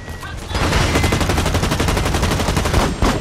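Rapid automatic gunfire in the multiplayer shooter Blacklight Retribution, a loud, dense stream of shots rattling almost continuously for a few seconds.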